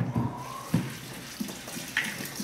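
A taco shell is rinsed under running tap water in a kitchen, producing a faint steady splash with a few soft knocks and drips.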